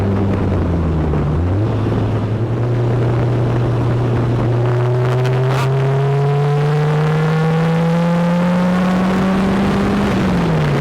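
A Spartan car's engine revs and accelerates hard, a loud rising drone climbing steadily through a gear with a shift near the start and another near the end, heard from inside with heavy wind and road noise.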